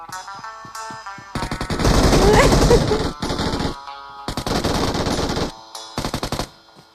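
Loud bursts of rapid automatic gunfire from the PUBG Mobile video game come in several clustered volleys separated by short silences, with single sharp shots between them.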